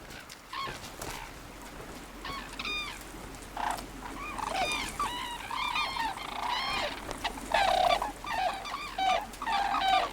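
Red-crowned cranes call from the Imjin River banks in the DMZ, a series of loud, bugling honks rising over steady outdoor ambience, growing more frequent and overlapping toward the end.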